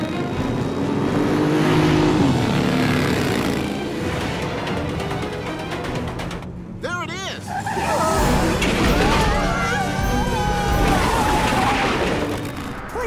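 A cartoon car drives along with a loud, continuous engine roar, a brief skid-like squeal and whistling sweeps partway through, and dialogue running over the engine noise.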